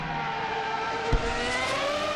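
Formula 1 Legacy R7 race car in a sim racing game at Vallelunga, engine note dropping through gears under hard braking into a left-hander, steady close engine whine with a short thump midway.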